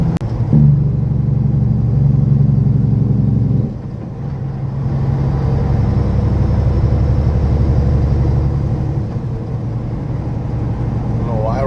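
Steady loud road rumble and engine drone from a car cruising along a highway near the 401 and 407, a continuous low roar with a shift in tone partway through, and voices talking over it.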